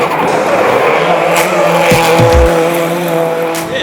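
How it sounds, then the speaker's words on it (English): Hyundai i20 rally car slides sideways on a street course at a motorsport festival, engine roaring loud and close as tires squeal through the drift, with a sharp downshift blip midway. "was New Zealand rally champion Hayden Paddon in his Hyundai i20 rally car, putting on plenty of sideways laps for the fans."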